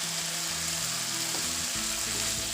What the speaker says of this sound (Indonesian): Ditumis sebentar.